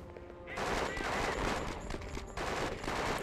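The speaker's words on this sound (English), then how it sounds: "Who are you shooting?" Sustained gunfire in the video game Conflict: Desert Storm 2, a dense, steady roar of automatic shots that swells after a brief quieter moment and holds without letup.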